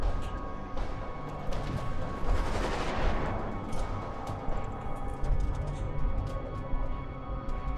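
Naval guns in a World War II warship video game fire high-explosive shells in a rapid, overlapping string of booms and cracks, a fairly dense burst near the middle, heard at moderate distance against steady background game noise.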